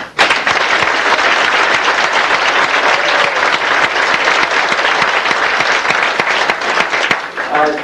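Loud, sustained clapping from a large crowd at a high school football end-of-season banquet, dense and even throughout before tapering off at the very end.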